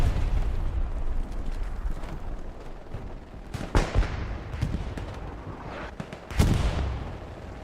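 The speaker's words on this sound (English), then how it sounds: "Dito is throwing a grenade. Lands inside the building." A grenade explodes inside a building in the game Hell Let Loose, set in Hurtgen Forest, with a sharp blast among scattered gunshots and distant battlefield rumble, followed by another heavy bang later.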